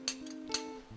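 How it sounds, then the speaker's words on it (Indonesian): A spoon clinks against a glass while a drink is stirred, a few bright ringing taps with short metallic tails, close and fairly loud, no talking. "Dan sepertinya rasanya aku harus aduk."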